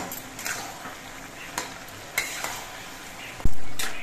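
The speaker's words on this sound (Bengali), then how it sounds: "আমি ঢাকনাটা খুলে নিচ্ছি আর লাউগুলো আবার নেড়ে চেড়ে নিচ্ছি।" Bottle gourd being stirred in a cooking pan over low sizzling heat, with a few soft utensil scrapes and clinks against the pan and a sharper knock near the end, no talking.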